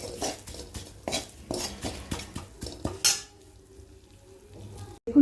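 Neem leaves fry in a pan, with repeated metallic scrapes and clinks of a spatula stirring against the pan over a soft sizzle, then a quieter stretch before a final clatter.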